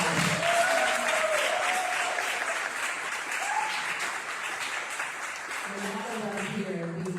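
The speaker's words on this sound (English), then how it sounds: "Let's give the gentleman another round of applause." Applause from the audience at an oratorical contest honours a speaker, a steady, moderately loud clapping that holds throughout, with voices murmuring faintly beneath it and a voice coming in near the end.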